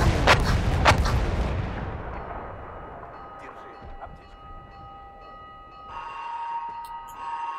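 Heavy artillery blasts in a first-person shooter, two loud booming impacts up front, then a lower rumble with a steady tonal hum and faint scattered sounds.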